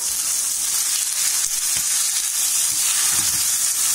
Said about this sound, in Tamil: நம்ம ஊற வச்சிருக்க சிக்கனை தயிரோட அப்படியே கலந்துக்குங்க.